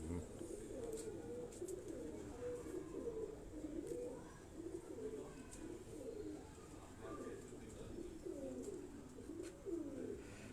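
Crested pigeons cooing on a rooftop loft, a continuous chorus of soft, rolling coos repeating from several birds nearby, with faint background noise and a voice talking now and then.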